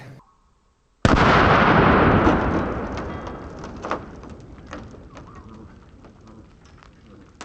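A .45-70 rifle fires at a budget body armor plate backed by a cinder block, giving one sudden loud blast that decays into a long, rolling outdoor echo, with nothing else sounding before the shot.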